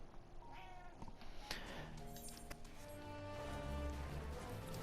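A cat meows in the Final Fantasy XIV video game, heard against a busy backdrop of game music and ambient sound, with the calls fairly faint and partly blended into the score.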